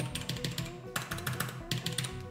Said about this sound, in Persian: سویچ های آبی داره که یه خورده سر و صداشون زیاده.